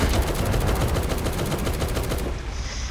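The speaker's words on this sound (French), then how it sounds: "Ça a explosé, mais ça n'a pas fait de dégâts." An explosion in the war video game Magnat de la Guerre produces a loud, dense, crackling blast that roars continuously for about three seconds, close and without speech.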